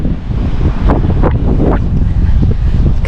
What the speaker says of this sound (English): whoo, it's windy